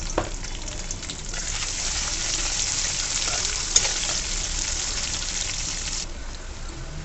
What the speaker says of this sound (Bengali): পেঁয়াজটা সামান্য ভাজা হয়ে আসলে